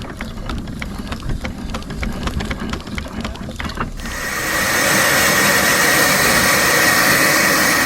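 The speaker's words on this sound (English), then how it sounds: "I'm going to just roll her out enough to be able to let off a bit of steam." A 6-inch scale Garrett 4CD steam traction engine sits ticking and clicking quietly before a loud, steady hiss of escaping steam bursts out halfway through and continues unbroken to the end.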